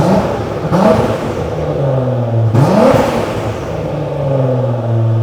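A Lexus LFA project car whose engine is not a V10 revs loudly and close by. It makes two rising, swooping pulls with a droning idle in between, and no voices are heard.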